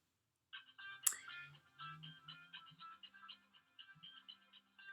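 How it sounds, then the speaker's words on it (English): A mobile phone ringtone goes off, a bright repeating electronic melody with a steady pulsing rhythm, close and clear, preceded by a brief sharp click, with no talking. "as my phone goes off in the middle of this recording"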